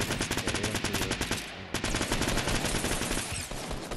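Rapid submachine gun fire in Fortnite, dense bursts of close, loud shots rattling almost continuously, with a brief gap midway before the firing resumes.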